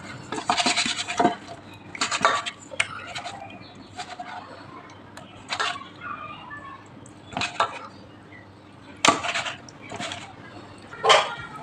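Fish is mixed by hand with salt, turmeric and mustard oil in a bowl, giving intermittent wet squelches and soft clinks against the dish, close and fairly quiet, with birds cooing in the background.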